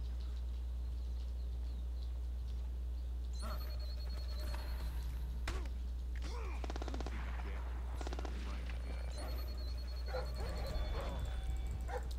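Dog barking in the stealth game Splinter Cell: Blacklist, during a mission at a rebel fortification: scattered barks and yelps over a low hum, mixed with gunfire bursts.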